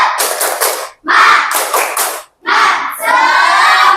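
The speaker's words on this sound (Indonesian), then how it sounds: "Coba tepuk semangat." A classroom group performs a rhythmic 'tepuk semangat' clapping chant. Loud, close bursts of patterned claps come in three phrases separated by short silences, and the last phrase ends in a shouted group cry.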